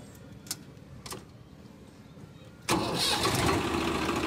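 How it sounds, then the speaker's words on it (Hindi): After a few faint clicks, a Swaraj 744 tractor's diesel engine cranks and catches, then settles into a loud, steady diesel rumble close by. "मैं आपको ट्रैक्टर स्टार्ट करके दिखाता हूँ"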